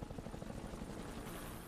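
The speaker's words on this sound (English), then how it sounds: "And the helicopter." Steady rhythmic thumping of helicopter rotor blades in the video game Max Payne 3 with a continuous engine drone, fairly even in loudness throughout.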